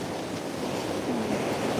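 Surf rolling onto the sand at San Juan beach in Ilocos Sur, a steady wash of waves under gusty wind noise, with no voices.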